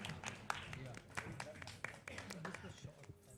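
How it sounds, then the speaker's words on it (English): An audience at a press conference for a night street race claps in scattered, sharp strikes, the applause fairly faint and mixed with voices talking throughout. "So can we have a round of applause for RPPL"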